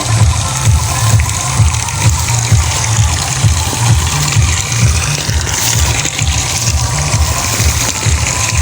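Water pours steadily from a fish pond drain and overflow, a continuous nearby gurgling rush with no talk.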